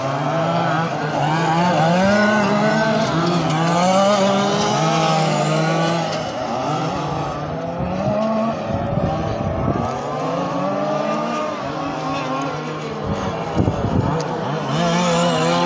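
A small high-pitched 1/5 scale on-road RC car engine whines continuously during a race, revving up and down with rising and falling pitch as it accelerates, loud and steady throughout.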